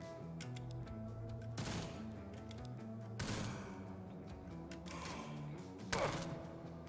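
Rifle fire in the sci-fi game Jupiter Hell, three sharp, loud bursts spaced a second or more apart over a constant electronic game hum, with no talk.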